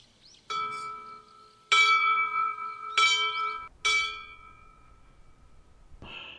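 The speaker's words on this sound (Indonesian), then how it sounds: "membunyikan lonceng 3 kali pendek dan 3 kali panjang" A ringing bell sounds in separate strokes, a short tone followed by longer, louder resonant strikes that decay and ring out, with faint low noise between and no talking.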